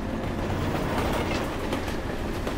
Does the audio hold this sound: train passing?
yes